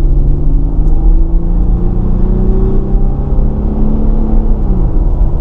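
Loud engine and cabin noise inside an Infiniti while driving, a steady dense rumble and whir with a slowly shifting engine tone, no voices.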